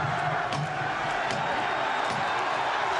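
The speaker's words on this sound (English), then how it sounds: "The crowd on its feet." Steady roar of a boxing arena crowd rising to its feet at the end of a comeback fight, a dense continuous wash of cheering and shouting with scattered claps, fairly distant.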